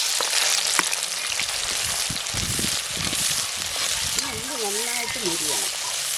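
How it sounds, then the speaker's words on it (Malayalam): Chopped onion, crushed on a stone, is tipped into hot oil for a chicken curry and sizzles steadily with a broad crackling hiss, while a voice talks over the later part. "എണ്ണ ചൂടായി ഈ ഉള്ളി ഇതിലോട്ട് ചേർത്ത് കൊടുക്കാം."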